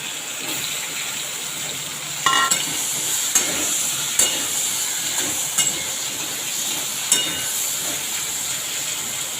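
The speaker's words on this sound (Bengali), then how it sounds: "আলুর সঙ্গে হলুদ এবং লবণ ভালো করে মাখিয়ে নিলাম এটাকে ভেজে নেব" Potatoes coated with turmeric and salt frying in oil, with a steady bright hiss and sizzle throughout and a few sharp clinks and stirring knocks, close and moderately loud.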